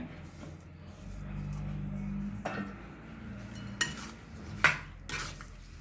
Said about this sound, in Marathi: आपण यामध्ये हळद अद्रक आणि हिरव्या मिरचे तुकडे हे घालून घेऊया आणि छान मिक्स करून घेऊया